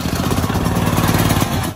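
Firman 9400 dual fuel generator engine cranking on its electric starter, a short, loud, rapid mechanical chugging that holds steady for under two seconds.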